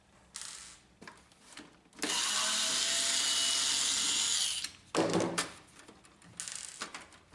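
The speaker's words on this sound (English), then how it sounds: "Remove the paper tray. Press it in the middle, then slide it out." A paper input tray is pressed in the middle and slid out of a printer, giving a long, steady plastic scraping slide followed by a shorter scrape and a few light clicks, close and alone.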